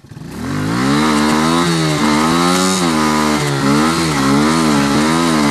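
An off-road vehicle's engine revs hard and high during a burnout in mud, a loud, close, continuous whine whose pitch wavers up and down as the throttle rises and eases, with no talking.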